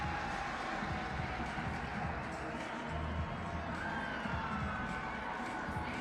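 A crowd at a Mexico versus Panama FIBA basketball qualifier in Monterrey cheers as the Mexican bench erupts. The roar is continuous and moderately distant, with shouts and high voices blended into a steady arena din.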